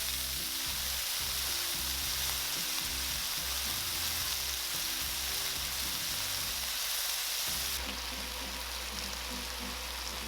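Lemongrass pork chops fry in a pan, giving a loud, continuous crackling sizzle that stays even throughout, with a slight shift in texture near the end and no voices.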